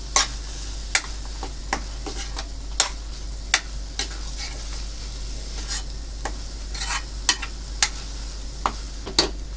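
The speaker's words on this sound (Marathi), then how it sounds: "हा टॅमॅटो, आपण चांगलं परतून घ्यायचं" Tomatoes sautéed in a pan for chole, with a steady sizzle and a regular series of sharp spoon scrapes and clicks about once a second, close and clear.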